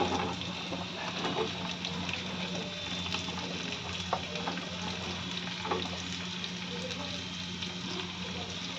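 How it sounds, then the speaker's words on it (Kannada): Onions fry in oil in a pan for an egg curry, making a steady, soft sizzling hiss that continues evenly throughout. "ಈರುಳ್ಳಿ ಸ್ವಲ್ಪ ಸಾಫ್ಟ್ ಆಗಬೇಕು ಅಲ್ಲಿವರೆಗೂ ಹುರಿಬೇಕು"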